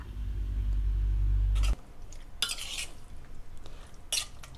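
Metal scraping and clinking of a spoon stirring Coorg pork curry masala in a pot, a few distinct scrapes after a low rumble stops, close and fairly loud.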